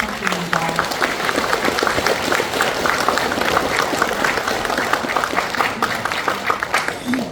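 Crowd applause at a formal ceremony as a Democratic Party leader is welcomed to give a congratulatory speech, steady and sustained clapping from a large audience throughout, with faint voices mixed in.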